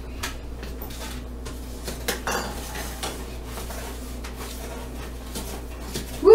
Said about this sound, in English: And Madeline is going to stir that up.